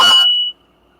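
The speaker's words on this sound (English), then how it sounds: "That's a text message I got." A phone's text message notification sounds as a brief bright electronic tone lasting about half a second, loud and alone, then cutting off to near silence.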